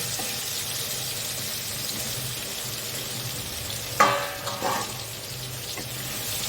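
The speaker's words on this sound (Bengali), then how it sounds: "সবজিগুলো কিছুটা ভেজে নেওয়ার পরে এবার বেগুনটা ভেজে নেব।" Eggplant frying in a pan after the other vegetables gives a continuous soft sizzle, with a brief clatter of a utensil midway.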